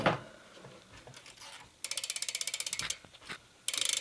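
The Eastern bidirectional hub on a BMX bike clicks in quick, even bursts of loud ratchet ticks as the wheel spins freely, with quieter mechanical rattling in between.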